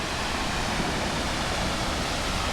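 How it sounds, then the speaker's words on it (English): A waterfall pours a heavy flow of water down a cliff with a cave behind it in the Kern River Valley, Sequoia National Forest, Southern Sierra. Its dense, unbroken roar fills the scene, close and loud. "That's the waterfall behind me right there."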